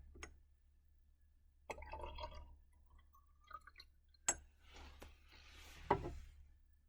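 Ammonia solution poured into a test tube in a lab, a short, fairly quiet trickle with faint clinks of glass between gaps of near silence, no voices.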